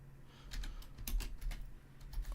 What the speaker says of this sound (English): I've moved my keyboard so it's out of the way of my mic, and now I just can't type.